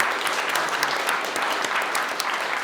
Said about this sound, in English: please give a round of applause to Steven for his keynote speech